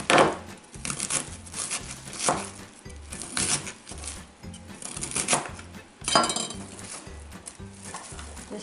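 Repeated knife chops through cabbage on a cutting board, cut into smaller pieces for a cabbage casserole: a steady rhythm of close, crisp strikes with brief pauses, clear and without talk.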